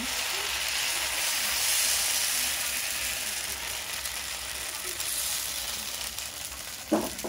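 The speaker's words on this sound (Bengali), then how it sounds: "এবার আমি আর একটা ব্যাটার দিয়ে দিচ্ছি।" Batter for palm-fruit patishapta pitha sizzles steadily in a pan, a constant close frying hiss, with a brief clatter near the end.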